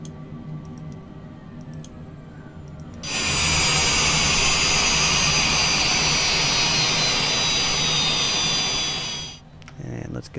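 Jet engines on a Cessna Citation Longitude in Microsoft Flight Simulator 2020 give a loud, steady whine that cuts off abruptly near the end, leaving quieter cockpit ambience and faint ticking.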